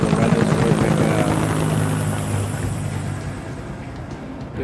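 Helicopter rotors chop steadily in the VR game MudRunner, a loud rhythmic thumping with a droning engine that slowly fades a little toward the end.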